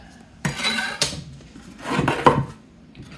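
Metal bread pans clank and scrape on a counter as dough is put into them: a few sharp knocks separated by sliding, rubbing sounds, close by.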